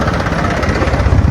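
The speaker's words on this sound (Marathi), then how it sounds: "तो आता गाडी चालवतोय, म्हणजे ट्रॅक्टर." A tractor engine runs on a village farm, a loud, close, continuous rumbling drone with a rough, pulsing texture.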